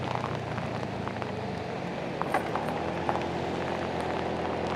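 Steady rain falls during a motorcycle ride through Jakarta city streets, a constant dense hiss with faint scattered drops and muffled traffic rumble underneath, no voices.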